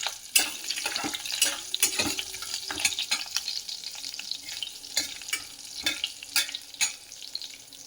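Green chilli and cashews fry in ghee for ghee rice, giving a steady, crackly sizzle with frequent sharp pops and spatters, plus occasional scrapes of a spoon stirring in the pan.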